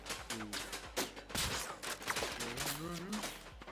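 Gunfire in the video game Battlefield 6, a burst of sharp shots cracking through a busy battle mix while a voice talks over it.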